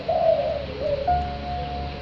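Domestic French squab pigeons give a soft, rolling coo followed by a few steadier drawn-out notes, close and clear against a faint background hum.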